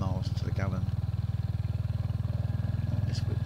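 A Royal Enfield Hunter motorcycle engine idling up close with a steady, low, evenly pulsing thump throughout, while someone talks over it.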